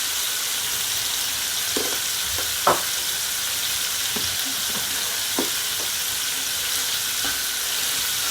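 Butter and bottled garlic sizzle and fry around a steak in a hot pan for hibachi-style cooking, a constant loud hiss close by with occasional soft pops and clicks.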